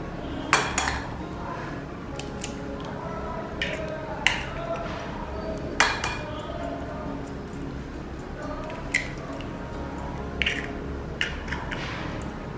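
Eggs being worked into a noodle pizza batter in a bowl, with repeated sharp clinks of a utensil against the bowl at irregular intervals, faint mixing noise between strikes.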